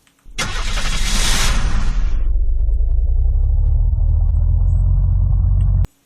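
Russian civilian vehicle in the video game Unturned: a loud engine start with a bright burst, settling into a steady low rumbling idle for several seconds before cutting off abruptly.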